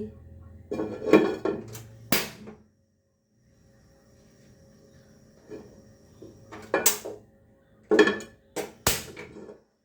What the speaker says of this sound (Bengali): এই যে চুলায় প্যানটা বসিয়ে দিচ্ছি।